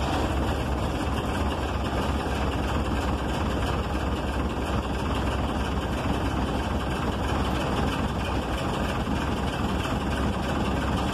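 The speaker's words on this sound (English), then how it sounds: "Sounds gorgeous with that engine" A steady, even bus engine idle drones on without change while warming up, a broad low rumble filling the whole stretch with no talking.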